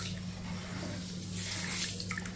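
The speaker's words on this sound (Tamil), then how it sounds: "இதையும் தண்ணி ஊற்றிட்டு நல்லா பிசைஞ்சு விட்டு நல்லா பிசைஞ்சு விட்டு நம்ம இதை கழுவணும்" Ragi (finger millet) grains being washed and kneaded by hand in water, a close, continuous sloshing and swishing with a low steady hum beneath and no talking.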